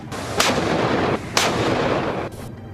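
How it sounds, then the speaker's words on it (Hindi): Heavy artillery cannon fire during a Chinese military exercise: three deep, booming blasts with sharp cracks, spaced about a second apart over a constant roar, with no voices. "दुश्मनों पर गोले बरसाती तोपें"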